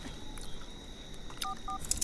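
A telephone number being dialed, heard as a few short, faint keypad beeps late in an otherwise quiet room with low background hiss.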